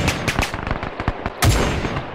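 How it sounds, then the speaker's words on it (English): Rapid bursts of gunfire from SMG positions in a World War II video game battle on Wake Island, sharp repeated shots, loud and close, with a heavier blast near the end. "That's where we're getting shot from."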